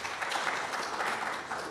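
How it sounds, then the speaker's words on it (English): Steady applause from a gathering in a city council chamber, a sustained patter of many hands clapping at moderate volume, with no voices over it. "maybe a second round of applause is due."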